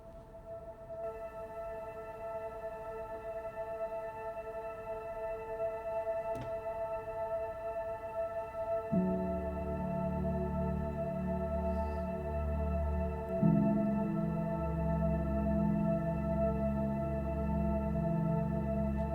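A soft sustained MIDI drone pad sampled and built in Ableton for worship keys, steady layered tones that thicken with a deeper swell partway through and again later, quiet and continuous with no voices.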